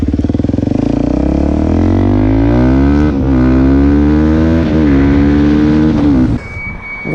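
A Suzuki DRZ400 motorcycle with a 3x3 mod, JD jet kit and K&N filter pulls hard in third gear, loud and close, its engine note climbing steadily with a brief dip before cutting back near the end.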